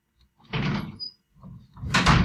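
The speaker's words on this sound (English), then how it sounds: "I forgot to close my door." A classroom door swings shut in a couple of loud, close thumps and rattles, with a latch-like clunk at the end and brief quiet between the bursts.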